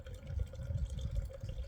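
Water pours steadily onto the substrate of a raft-style juniper bonsai being repotted, a continuous close splashing trickle with a low rumble and no talking.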